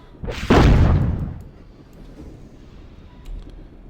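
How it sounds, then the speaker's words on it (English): A deep, booming explosion from the King's Bounty video game as a fortress wall crumbles, a loud rumbling blast that peaks early and then fades into a low, lingering rumble. "A horrible explosion shakes the earth. Part of the fortress wall has crumbled."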